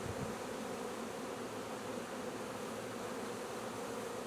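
Honey bees swarming at a hive give a steady, even buzzing drone. It is faint and continuous, with no voices over it.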